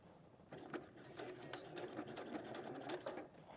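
A domestic sewing machine runs steadily in a short burst of stitching to secure a seam at a dart, close and moderately quiet, with a faint voice in the background.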